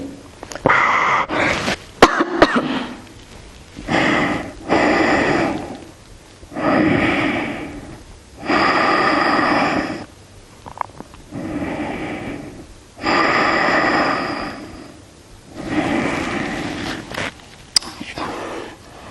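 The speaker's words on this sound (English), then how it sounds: "Inhale here. Exhale here." Deep, slow breaths in and out during a yoga flow, each long airy breath lasting about two seconds, with pauses between them, close and clearly audible over a quiet room.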